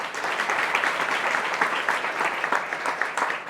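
A congregation at a Swaminarayan temple Patotsav gathering in Vadaj claps together, a loud, close, continuous burst of applause lasting a few seconds with no speech over it.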